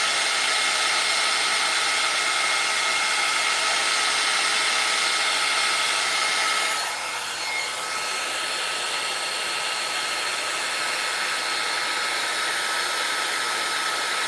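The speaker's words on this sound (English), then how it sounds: "the heat gun kind of reactivates that resin and helps to get it a little bit more fluid again" A heat gun blows steadily on resin coating a geode, a loud continuous hissing whoosh with a constant whine, shifting slightly midway as the airflow is moved.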